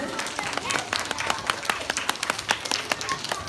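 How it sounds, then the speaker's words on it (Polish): An audience at a Nativity play claps steadily, dense overlapping applause throughout at moderate distance, with a faint crowd murmur underneath. "proszę o wielkie brawa i zagrzanie jego pracy"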